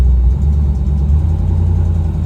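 A car engine idles with a deep, steady low rumble, close and loud, as the car pulls up to the staging spot on an abandoned racetrack.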